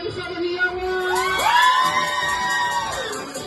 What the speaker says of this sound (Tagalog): malakas na palakpakan na may kasamang hiyawan